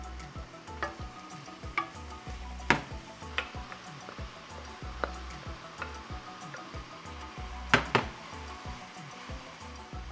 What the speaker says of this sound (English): Saute your garlic with your onion.